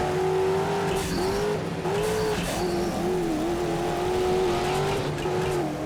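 Race car engines in the off-road racing video game MotorStorm, with a loud, sustained engine note that rises and falls as the car shifts and revs, and brief tire squeals mixed in.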